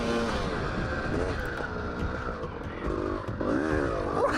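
A dirt bike engine revs and shifts while being ridden, its whining note rising and falling steadily up close, with wind rush and brief bursts of acceleration near the end.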